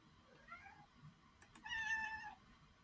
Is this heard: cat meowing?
yes